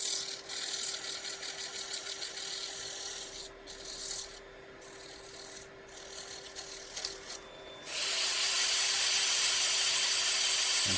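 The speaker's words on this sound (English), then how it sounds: "A little final sanding here." Sandpaper rubs against a wooden garlic keeper turning on a lathe, a steady raspy hiss with a constant motor hum beneath it, briefly easing off mid-way before returning louder and sustained.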